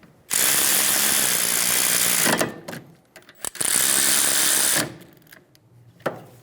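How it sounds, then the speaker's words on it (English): A ratchet snugs down the rear brake caliper bolts on a 2007-2011 Toyota Camry, heard as two long, loud, continuous whirring bursts separated by short clicks and quiet gaps. "Install the caliper bolts. Snug the bolts down."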